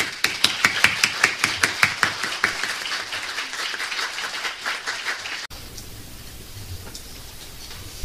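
Audience clapping at a university graduate school entrance ceremony: sharp, rapid claps in a steady rhythm that thin out and then stop, leaving a soft room hum.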